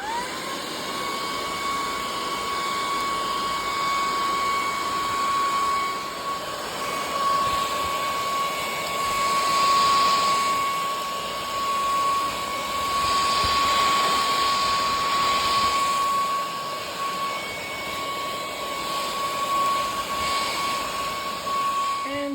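A cordless 45Kpa stick vacuum cleaner runs steadily, cleaning inside a couch, with a constant high-pitched motor whine and airflow hiss that swells slightly at times, close and loud throughout.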